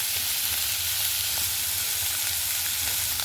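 Fish fat frying in a pan, a steady close crackling sizzle with small pops, heard on its own.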